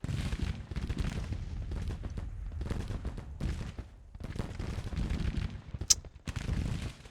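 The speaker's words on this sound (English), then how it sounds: "those three skirmisher groups shoot into that" Skirmisher groups firing muskets in a Civil War strategy game, repeated ragged volleys of crackling gunfire in uneven bursts with short gaps, mid-distance and fairly loud.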